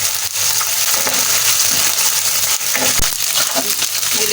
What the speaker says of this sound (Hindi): ये देखिए अदरक लहसुन भून चुका है।